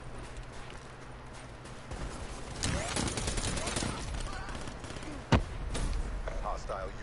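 Gunfire in Black Ops 3 shooting up a window, rattling bursts of rapid shots with one sharp loud crack near the end, mixed with game noise and no clear talk.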